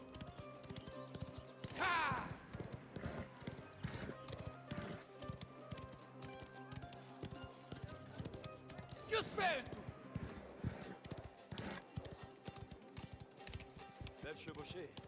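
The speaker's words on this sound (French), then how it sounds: "Je me croyais rapide, mais tu sais vraiment foncer à cheval." Galloping horse hooves in a Sicilian countryside scene from the video game Mafia: The Old Country, a quick, rhythmic clatter that runs throughout with a few louder bursts.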